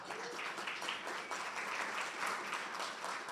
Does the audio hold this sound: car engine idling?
no